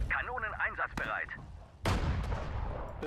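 Cannon fire rings out in the Second World War strategy game Sudden Strike 4. A voice speaks briefly, then a sharp crack is followed by a heavy, loud boom with a rumbling tail.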